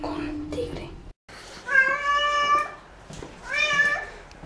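A newly adopted female kitten cries from behind a door with repeated drawn-out meows in two bursts, fairly close and clear, with some indistinct background sound between calls.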